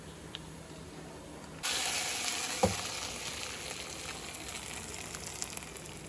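Cumin seeds and ingredients dropped into hot oil set off a sudden sizzle that continues as a steady, quiet hiss, with a small clink partway through.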